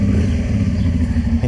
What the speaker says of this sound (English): You like the motorbike, eh?